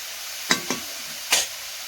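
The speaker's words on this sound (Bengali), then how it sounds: "উচ্ছেটা ভাজা হতে হতে আমি মশলাগুলো রেডি করে নেবো মাছের তরকারির জন্য।" Bitter gourd frying in a pan while being stirred, with three short bursts of scraping and sizzle at close range against a quiet low hiss.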